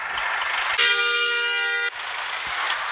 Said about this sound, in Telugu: మనకి ఫస్ట్ హార్న్ ఎలా ఉంటుంది